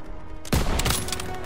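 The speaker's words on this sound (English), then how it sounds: "Firing!" Video game gunfire in a Call of Duty WWII battle: a sudden loud burst of rapid shots over a dense, noisy combat background, close and unbroken.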